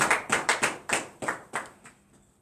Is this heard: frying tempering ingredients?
no